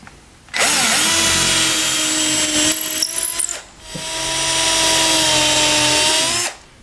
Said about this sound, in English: We're going to pre-drill holes in the cleat and run screws.